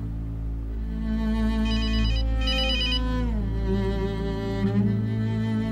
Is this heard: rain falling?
no